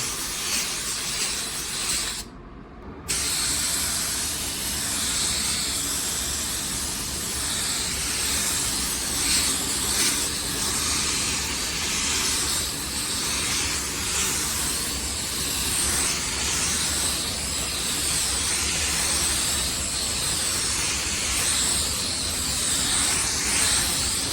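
A spray gun laying clear coat onto a new car panel in a paint booth, a loud continuous airy hiss that breaks off briefly near the start and then resumes steadily up close without speech.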